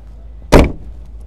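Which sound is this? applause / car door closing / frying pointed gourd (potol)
car door closing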